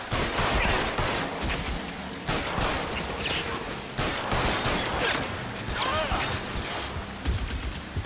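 Rapid gunfire bursts and repeated shots from the L.A. Noire game on PS3, loud and continuous, with mechanical clatter between volleys and occasional voices in the mix.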